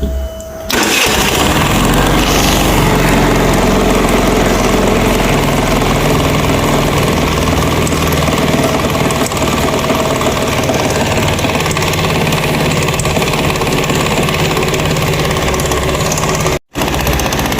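A 50cc fuel-injected motorcycle engine starts and settles into a loud, steady running drone close by, continuing without a break for the whole stretch apart from a brief dropout near the end.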